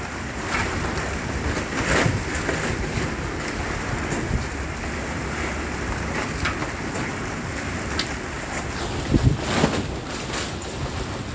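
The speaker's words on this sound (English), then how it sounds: "Watch how this breeze blowing" Wind gusts over a barge on a rough sea in heavy rain, a dense continuous roar of wind, rain and surging water with occasional louder thumps, close and unbroken with no voices.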